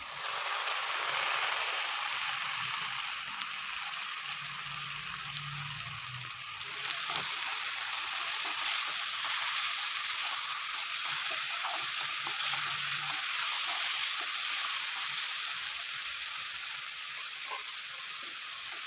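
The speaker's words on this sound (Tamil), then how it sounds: "வெங்காயம் நல்லா வதக்கியாச்சு இதோட தக்காளி சேர்த்துக்கலாம்" Onions and tomato sautéing in a pan while cooking sorakkai mochai kulambu, a bottle gourd and field bean curry: a steady, even sizzle and frying hiss runs throughout, close and continuous, with no talking.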